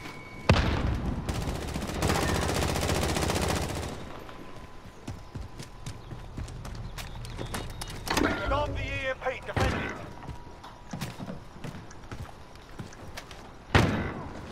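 A shotgun fires in Call of Duty: Modern Warfare, a few sharp loud blasts amid in-game clatter and background effects, with occasional voices in the mix.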